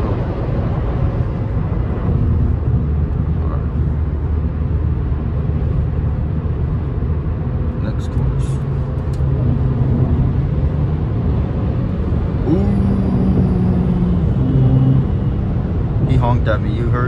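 Cabin rumble of a third-generation Acura TL accelerating, a loud, steady low engine and road drone sustained throughout with a brief tonal rise near the end.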